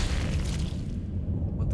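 A deep explosion from the Dead Space video game rolls out as a heavy, sustained low rumble that fills the whole moment.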